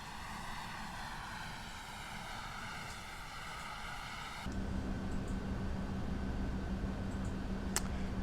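Boeing 737 engine drone in a flight simulator game, a steady whining jet roar that switches abruptly to a deeper, denser hum partway through, fairly faint and with no voice.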